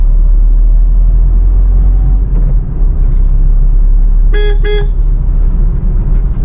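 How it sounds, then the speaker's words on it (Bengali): Two short, light taps of a car horn sound over the steady rumble of a moving car's engine on a congested street. "হর্ন দিচ্ছি হালকা করে"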